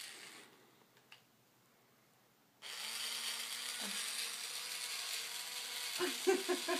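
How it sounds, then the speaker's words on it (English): A toy drill whirs in a steady mechanical buzz after a quiet start, running continuously close by with a few clicks and a small rattling burst near the end. "Oh, cool. Drill."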